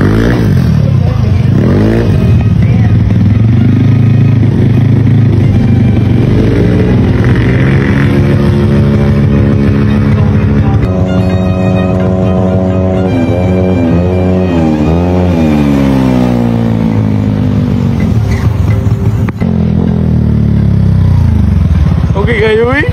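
A tuned Honda Beat v3 superstock scooter engine revs loudly and continuously up close, its pitch climbing and falling through repeated throttle blips, with people talking under the engine noise.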